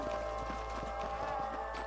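Horse hooves clip-clop at a steady walking rhythm in the Western video game Red Dead Redemption on PC, close and fairly loud over a low ambient hum and soft background score.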